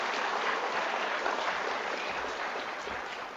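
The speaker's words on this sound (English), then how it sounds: "let's give those students one more big round of applause" Audience applause for students at a school reading program event, a steady dense wash of clapping that holds loud throughout and tapers slightly at the end, with no voices over it.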